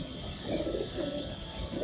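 Soft, low cooing of high-flyer racing pigeons murmurs repeatedly against a steady background hum, fairly quiet and close by.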